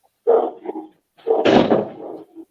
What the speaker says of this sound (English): Let me close the door for the dog.